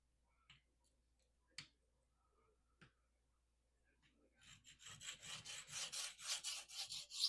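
A Cold Steel Kobun knife in AUS8 steel being reprofiled on a Bull Thistle extra coarse ruby stone: a few faint taps, then steady, close, rhythmic back-and-forth grinding strokes that grow louder.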